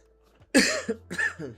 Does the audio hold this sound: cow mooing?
no